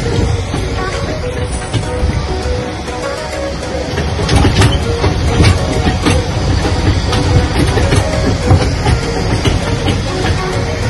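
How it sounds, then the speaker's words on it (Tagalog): A ride-on train at SkyRanch amusement park in Tagaytay rolls along steadily with a continuous rumbling, clattering wheel-and-engine noise, loud and close, with crowd bustle and faint voices underneath. "Here comes the train!"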